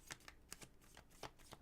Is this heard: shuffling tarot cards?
yes